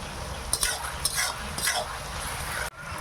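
Meat with small whole onions and some larger onion frying in a pan, giving a steady close sizzle with a few scraping stir strokes in the first half and a brief cut near the end.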